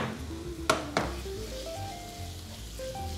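Meat sizzles steadily in oil in a frying pan, a close continuous hiss with a couple of sharp utensil clinks near the start.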